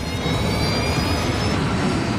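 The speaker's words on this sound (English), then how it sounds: "The crew brings up power to the engines on the wings." Loud, steady roar of an American Airlines jet's wing engines powering up close by, with a faint rising whine above the heavy rumble.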